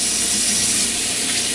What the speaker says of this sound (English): I was just running a little bit of water so I can do some cleanup on the counter